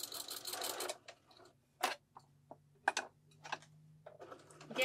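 Sewing machine stitching and backstitching a curtain panel runs in a short buzzing burst, then a series of faint, scattered mechanical ticks and brief whirs, close and quiet.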